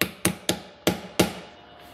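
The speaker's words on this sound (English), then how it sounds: "try to hammer up underneath the metal" Five sharp metallic hammer blows drive a chisel-like pick under an aluminum gland, in a quick, slightly irregular rhythm, close and fairly loud, each ringing briefly.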